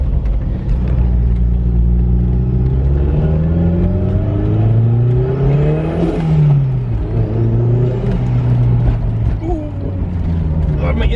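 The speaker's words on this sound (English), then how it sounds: "That's loud. You can hear the turbos." A Toyota MR2 turbo engine revs and accelerates loudly from inside the car, pitch swelling and falling with gear changes and a turbo whir rising over it, while people talk.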